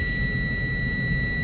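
Low air pressure warning buzzer inside a Prime Inc tractor-trailer cab, sounding as air pressure drops below 60 psi during a brake test: a steady, piercing electronic tone held unbroken over low cab rumble.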